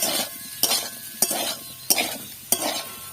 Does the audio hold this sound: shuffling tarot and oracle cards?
no